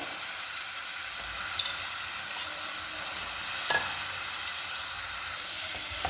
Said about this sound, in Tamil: இப்போ இதில் பட்டாணி சேர்த்துக்கலாம்